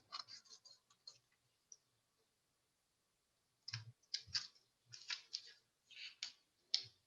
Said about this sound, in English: Again, I will just cut a strip.